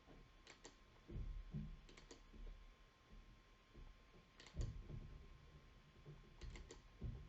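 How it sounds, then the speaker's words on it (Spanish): Computer keyboard typing and mouse clicks while working in Adobe Illustrator, faint clustered clicks in short bursts spread across the stretch over a quiet room hum, with no talking. "aplasto control y hago clic afuera de los puntos de trazado"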